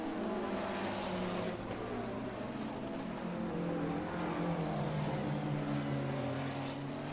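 Ferrari and McLaren GT3 race cars in a sim racing game at Zandvoort, engines droning steadily with shifting pitch as they rev through corners, a continuous moderate-level roar without talk.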